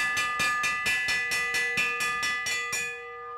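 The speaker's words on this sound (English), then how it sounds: "Here comes the bell." A bell clangs in quick repeated strokes during a bike race, about ten ringing hits with sustained tones that fade at the end, loud and alone.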